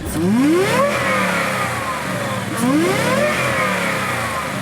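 A 2020 Shelby Super Snake GT500 with a Whipple supercharger revs hard twice, its engine note climbing in two rising sweeps with a supercharger whine, loud and close with no talk.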